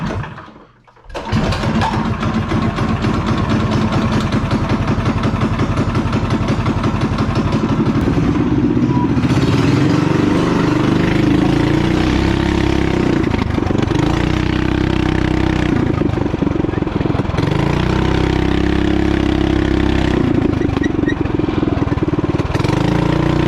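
A Coleman BT200x minibike with a swapped Predator 301 engine starts after a short pause and then runs loud and steady nearby, its rough idle rising and settling in pitch with throttle changes.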